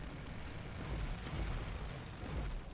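Planetary drilling in The Long Journey Home, a steady, low rumbling roar with swelling booms, moderately loud and continuous, with no voices.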